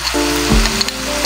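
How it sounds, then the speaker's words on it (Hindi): Powdered spices fry with finely chopped capsicum in an oil-filled pan, a brief, close sizzle with a single soft stir, and no voices. "इसको 30 सेकंड के लिए बस मैं इसके साथ फ्राई कर लेती हूँ"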